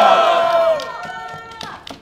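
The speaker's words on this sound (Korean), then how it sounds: "잘한다고 와 하고 환호성 한번 질러주세요" A crowd at an anti-impeachment declaration rally at Seoul Theological University lets out a loud, sustained cheer that fades away within about a second.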